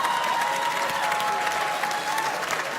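A comedy club crowd at Webster Hall bursts into sustained, even applause that fills the room, with faint cheers mixed in.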